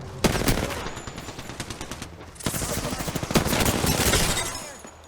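Rapid bursts of enemy gunfire in a squad-based shooter video game, sharp repeated shots in dense volleys with a brief lull near the middle, then a heavier sustained stretch of firing.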